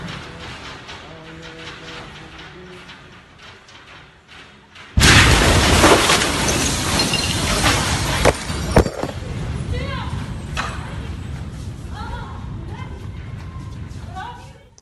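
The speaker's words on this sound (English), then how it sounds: "a short video that apparently one of their security cameras, I'm thinking, caught of the actual explosion" Security camera recording inside a church in Beirut, Lebanon during a worship service as the explosion hits: a sudden loud blast partway through, followed by sustained roaring debris, clatter and crashing.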